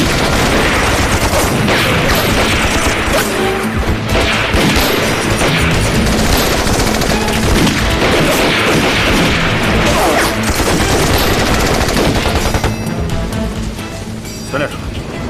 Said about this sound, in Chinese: 除了鬼子用的机枪之外，还有一种枪声我从来没听见过